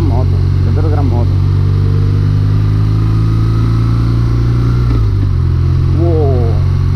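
A 2024 BMW R12 motorcycle ridden around Modena, its engine giving a loud, steady, low drone with a small dip in pitch partway through, while a rider's voice briefly speaks over the engine noise.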